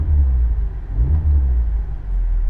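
Engine of a 2021 Honda Civic Type R rumbling low and steady as the gas pedal is pressed, with mild surges in the revs; close, continuous and without talking.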